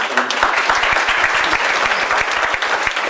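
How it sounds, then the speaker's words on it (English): Audience applause at a Summer Creek business community gathering, honoring a public servant named Mike, with brisk, full clapping from a nearby crowd running steadily throughout. "please give him a serious round of applause"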